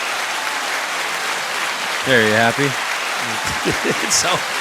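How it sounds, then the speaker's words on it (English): A streamer's soundboard button plays a canned applause effect, a steady broadband wash running through the whole stretch while someone talks over it partway through. "I can't even hear the applause because it must be so loud"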